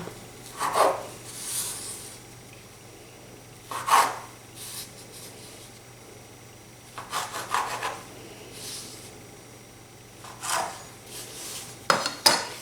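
A knife cuts date cake dough diagonally on a board, a series of separate scraping, rasping strokes a few seconds apart, close and fairly quiet, with no talk.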